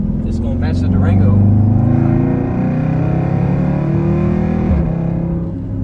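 An SRT Durango drives along with a steady, rumbling engine drone heard from inside, the low tone swelling slightly with throttle, while a voice briefly talks near the start.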